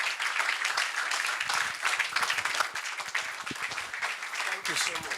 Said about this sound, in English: With a standing ovation, rounds of applause, let's kindly make welcome Professor Gregory Efosa Erabo.